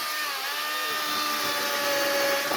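A power drill whines close up as it bores into wood while a beehive feeder is built, its pitch sliding and steadying through one continuous run with no talking.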